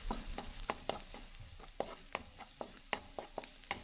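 Garlic sizzling in melted butter in a pan for chop suey, a soft, steady frying hiss broken by regular scraping stirs of a spatula.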